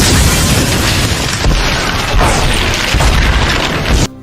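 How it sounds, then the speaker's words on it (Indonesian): A bomb detonates aboard a helicopter in a Turkish military action film, a loud sustained roaring blast with rumbling debris that fills the clip, then cuts off abruptly near the end. "bom pun meledak"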